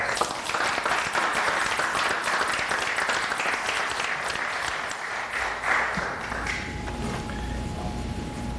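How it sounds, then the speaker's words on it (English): At a village board meeting, an audience claps for an honoree with a brisk, dense burst of applause that thins out after about six seconds. Scattered claps and a few footsteps follow in a quieter room. "Let's give him a round of applause."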